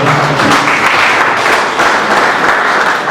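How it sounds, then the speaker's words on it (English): Loud, sustained applause from an audience welcoming a resource person who has just walked in, dense steady clapping filling the whole moment with no talk over it. "Please can we put our hands together for him?"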